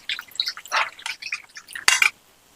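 Tamarind squeezed and dissolved by hand in water in a home kitchen, heard as a close series of wet squelches and drips in irregular bursts, ending with a sharper splash.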